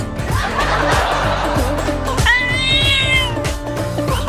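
Cartoon cat meowing loudly in a chase scene, a few drawn-out cries over busy comic music with giggly laughter in the mix.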